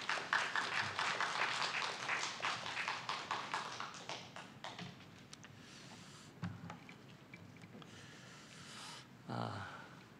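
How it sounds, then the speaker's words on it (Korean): Congregation applauding at a Sunday anniversary revival service in a Korean church in Dallas, welcoming a pastor. Steady clapping fills the first few seconds, then fades to scattered claps with a brief burst near the end. "우리 한번 박수로 우리 말씀을 기대하고 환영하면서 말씀 듣도록 하겠습니다"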